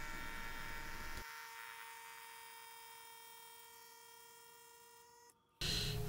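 A vacuum pump used in woodturning to draw down a vacuum chamber runs with a steady electric hum and whine, shifting to a quieter, thinner tone as the pressure drops, then a brief dip before the louder roar returns.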